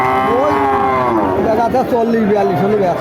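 Cattle at a livestock market, loud near moos rising and falling, with a continuous crowd murmur beneath them.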